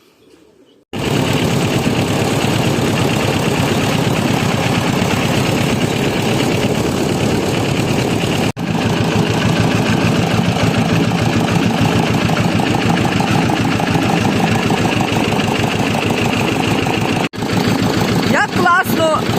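A car engine starts and runs steadily as the car sets off toward a forest, a loud continuous drone with a rhythmic low rumble, and two brief dropouts along the way.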